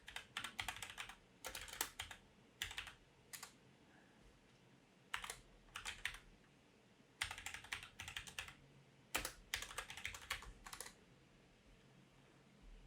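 Computer keyboard being typed on while writing Python plotting code, quick bursts of close, crisp key clicks separated by short pauses, fairly quiet with no talking.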